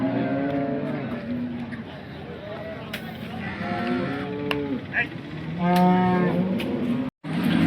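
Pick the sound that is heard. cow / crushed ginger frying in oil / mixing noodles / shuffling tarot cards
cow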